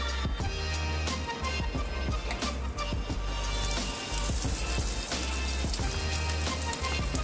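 Edible gum (gundar) dropped into roasted flour and ghee in a pan for winter gundar pak, a loud steady frying crackle with bursts of popping and sizzling that swell in the second half.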